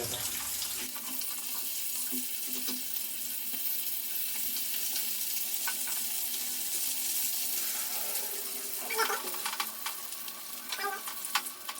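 Bangda mackerel pieces frying in a pan, a steady, soft hiss and sizzle with occasional clinks and stirring sounds, and no talking.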